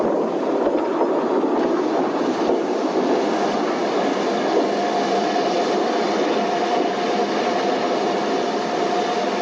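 A Henschel 0-4-4-0 Mallet steam tank locomotive train running on a Porto railway line in Portugal, a loud steady rumble with rhythmic clicking of wheels and a faint high squeal, continuous throughout.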